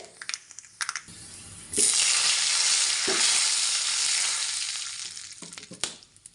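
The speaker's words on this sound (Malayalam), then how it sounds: "ഇതിലേക്ക് വറ്റൽമുളക് ചേർത്ത് കൊടുക്കുന്നുണ്ട്" Dried red chillies hit hot oil with mustard seeds in a pan for a tempering. After a few light clicks, a loud, close, continuous sizzle bursts up and holds for several seconds before fading into scattered crackles.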